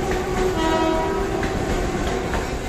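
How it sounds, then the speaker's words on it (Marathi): A Mumbai slow local train bound for Churchgate rumbles past close by, a loud continuous roar with a sustained horn tone and faint rhythmic wheel clatter. "चर्चगेटची लोकल आहे,"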